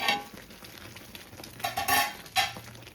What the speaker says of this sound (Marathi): मधून फिरवत राहायचं